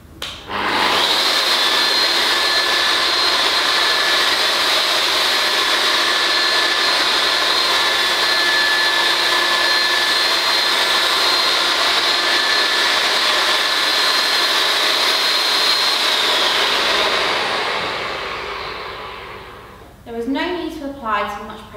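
A brass pole tube is polished with a pad, likely a powered machine. A loud, steady whirring hum runs for about eighteen seconds, then winds down. A person speaks briefly at the end.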